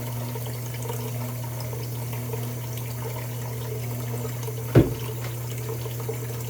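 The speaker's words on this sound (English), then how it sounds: "I'm gonna go ahead and wet my face here" A bathroom tap runs water steadily before a shave, a constant moderate rush with a low hum beneath and one brief splash or knock near the end, no talk.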